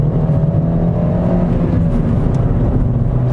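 Ford Fiesta Mk7 1.2L hatchback cruising at around 60 mph on a country road, a steady loud in-cabin drone of engine, tyre and road noise with low harmonic hum holding constant throughout, no voices.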